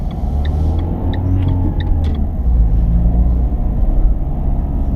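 A car pulling away from a stop sign during a driving lesson, its engine rumbling steadily and close, with a faint rise in revs as it sets off and no talking.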